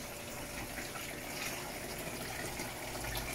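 An Electrolux LEC14 washing machine fills with water, producing a steady rushing gush of flow into the drum that stays even and moderately loud throughout.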